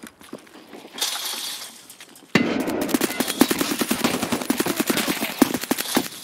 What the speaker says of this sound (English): You were shooting at me.